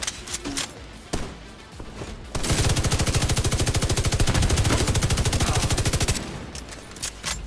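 Light machine gun in The Division 2 video game fires a long sustained automatic burst, dense rapid regular shots lasting several seconds, loud and close, with scattered impacts and game effects before and after.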